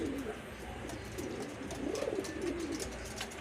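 A racing pigeon coos softly, with a few low, rolling coos over faint background noise and no talk.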